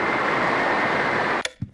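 Haunting radio static from the video game Silent Hill 4: a dense, steady hiss runs loud and unbroken, then abruptly cuts out near the end, leaving a few brief bursts.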